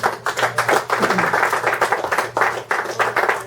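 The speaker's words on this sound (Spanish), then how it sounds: "Démosle palmas al Señor." A church congregation claps hands steadily in a brisk rhythm, loud and close, with a low hum beneath the clapping.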